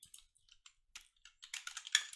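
Typing on a computer keyboard, scattered light key clicks that grow into a denser, quicker burst of keystrokes toward the end, close and fairly quiet with no voices.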